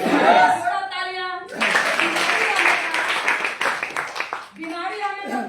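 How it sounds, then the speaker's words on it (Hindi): A gathered audience at a health talk breaks into clapping, a dense burst of applause lasting a few seconds between stretches of someone speaking on a microphone. "थोड़ा तालियां।"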